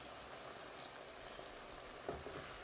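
Frozen koftas being mixed into a biryani masala that sizzles and fries steadily throughout, with a faint stir or clink near the end.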